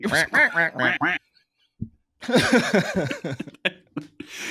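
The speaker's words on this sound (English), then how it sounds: "Give me some quacks." Cartoonish duck quack effect: a rapid string of loud, nasal quacks, a brief silence, then a second longer burst of quacking with no other sounds behind it.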